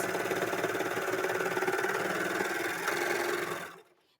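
A serger sewing machine runs at a steady fast whir with a rapid mechanical chatter, close and continuous, then cuts off near the end.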